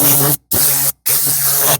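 Loud, close bursts of compressed air blown from a Fortress 5 gallon air compressor, three steady hissing blasts separated by brief silent pauses, with no talk.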